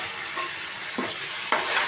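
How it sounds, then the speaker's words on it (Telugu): Bottle gourd pieces drop into a pan of well-fried onions, giving a steady background sizzle with stirring scrapes and two brief louder bursts of frying as the pieces land. "నేను ఆనపకాయ ముక్కలను కూడా యాడ్ చేసేస్తున్నాను."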